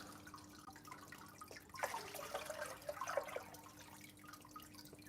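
Water poured into a fish tank makes a faint splashing, bubbling gurgle that swells for a couple of seconds and then fades against a low steady hum.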